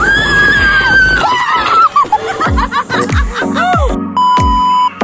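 Several people scream and shriek in long, rising bursts, mixed with laughter and whoops, loud and close over a rushing background.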